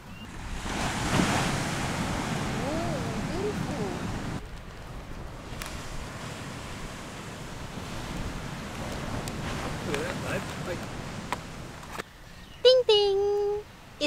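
Ocean surf rolls continuously onto a sunny beach in Phuket, a broad steady wash of waves with wind buffeting the microphone, and a few brief voices and clatters near the end.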